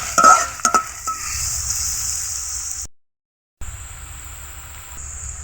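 Chopped onion and green chillies frying in a pan for a pabda fish curry, stirred with a spatula: a few sharp metal clinks at the start over a soft sizzle, a brief cut to silence, then a quieter steady sizzle.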